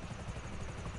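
A helicopter in GTA gives a short burst of steady, dense low rotor rumble at an even, moderate level, with no voices.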